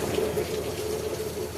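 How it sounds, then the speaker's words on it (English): Heavy rain pours down steadily outdoors, a dense even hiss and wash like running water, fairly faint and continuous with no voices. "Pouring down raining, y'all."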